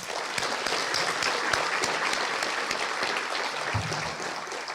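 An audience applauds a student choir after its performance, a dense, even wash of many hands clapping that holds steady at moderate loudness throughout.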